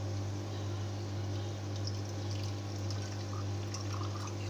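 Water poured in a steady stream into food colouring while making degi rice, a continuous close trickle over a low steady hum, with no talking.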